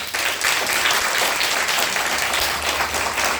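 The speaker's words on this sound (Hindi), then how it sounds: "जोरदार ताली बजाइए।" A church congregation applauds loudly during a Sunday service, with a thick, continuous wash of clapping from a large crowd that holds at a steady level throughout.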